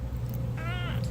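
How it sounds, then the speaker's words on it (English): Pet cat named Leo lets out a single short rising meow at home, close and clear over a steady low hum. "All my cat does is talk back to me, fuss at me, want affection and endless attention from me"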